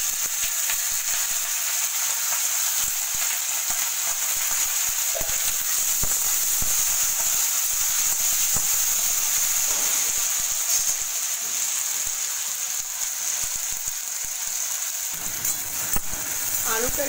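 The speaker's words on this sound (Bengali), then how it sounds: "তেল আর শুকনো লঙ্কা, তেলের উপর আমি দিলাম গোটা জিরে" Whole cumin seeds and dried red chillies frying in hot oil in a home kitchen, a steady close sizzle that runs throughout with a few brief crackles and pops.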